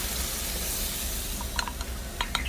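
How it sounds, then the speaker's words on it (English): Heavy cream poured over toasted mushrooms in a hot pan for beef stroganoff, producing a steady close sizzle with faint bubbling pops and light stirring clicks. "In this point I'm adding here my heavy cream."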